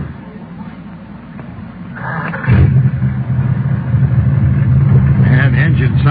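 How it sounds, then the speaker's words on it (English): An old jalopy's engine idles low and steady, the rumble swelling louder after a couple of seconds and holding under people talking nearby. "Man, the engine sounds nice, doesn't it?"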